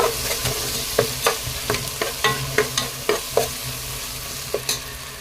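Tomato being sautéed in a pan of pulao base, a spoon scraping and stirring in quick repeated strokes over a constant close sizzle, no voices.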